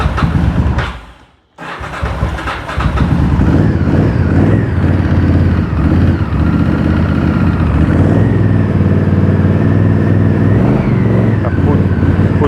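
An old abandoned Honda VTR 1000 Firestorm V-twin motorcycle cranks, falters briefly, then catches and keeps running with a loud, rough, steady engine rumble close by, with people talking over it.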